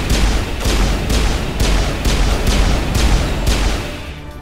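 Weapon fire in Mass Effect Legendary Edition, a loud, evenly spaced series of about nine booming shots, each with a sharp crack and short rumbling tail, fired at a measured rate.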